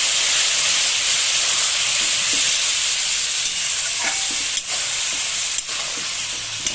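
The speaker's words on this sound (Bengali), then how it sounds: "এবার মশলার পেস্টটা আলুতে ঢেলে দিলাম" Spice paste fries in hot oil with potatoes for a hilsa fish curry with black cumin and eggplant, giving a continuous loud sizzling hiss broken by a few sharp clicks of stirring.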